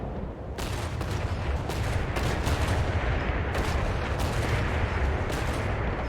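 AI-controlled naval guns in War Thunder firing at the enemy, dense rolling volleys of booming shots layered over a constant loud rumble, continuing without a break.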